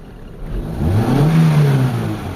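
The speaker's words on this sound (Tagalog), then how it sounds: "Ay didiin ko yung gas pedal." A Mitsubishi Lancer GLXi engine, running with a newly replaced MAP sensor and lacking power, is revved once up close, its hum rising and then holding steady without any talk.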